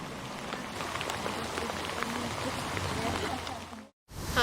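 Heavy, unrelenting rain pours steadily beside a canal under grey skies, a dense continuous hiss of drops on surfaces that cuts off abruptly near the end.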